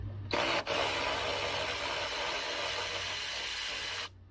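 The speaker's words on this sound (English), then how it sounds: "All I'm doing now is just taking off 2 of the bolts" A ratchet wrench loosens bolts on a Foxbody car door in a sustained, loud whirring burst of about four seconds. A short break comes near the start, and the sound is close up with no talking.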